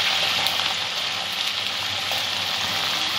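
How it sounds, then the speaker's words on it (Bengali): Food frying in a pan until lightly browned, a dense, steady close hiss of sizzling oil with no talking. "হালকা ব্রাউন করে একটু ভেজে নেব।"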